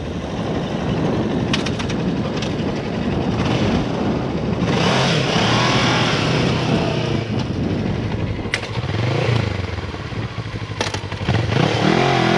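A motorcycle on a riding-safety training course pulls away from a leaned-over standstill on rollers, its engine droning loud and steady throughout with some clattering and revving over continuous noise.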